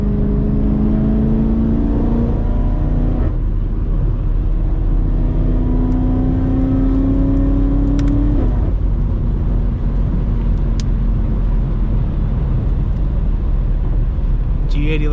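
Straight-piped BMW F90 M5 and G80 M3 driving through New York City traffic, engines loud and close, revving up through rising gear pulls with shifts between them, under steady cabin rumble.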